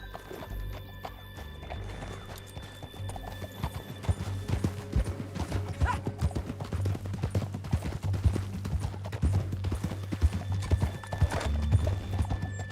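Horses gallop in Red Dead Redemption 2, rapid clip-clop hoofbeats with occasional whinnies over a steady low game rumble, loud and continuous through the ride.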